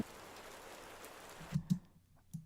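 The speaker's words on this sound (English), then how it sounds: "What if we had the rain come back in over here?" A rain sample layered into an Ableton Live 12 beat gives a soft, steady hiss of falling rain that cuts out partway, leaving a few faint thumps in near silence.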